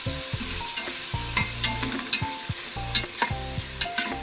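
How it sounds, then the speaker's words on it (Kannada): Tomato with salt and turmeric cooking in a pan for tomato bath: loud, close frying sizzle broken by repeated rhythmic stirring scrapes of a spoon against the pan, with no voices. "ಟೊಮೆಟೊ ಬೇಯಲಿಕ್ಕೆ ಸ್ವಲ್ಪ ಉಪ್ಪು ಜೊತೆಗೆ ಸ್ವಲ್ಪ ಅರಿಶಿನ ಹಾಕಿ ಚಂದ ಮಾಡಿ ಬೇಯಿಸ್ಕೊಂಬ"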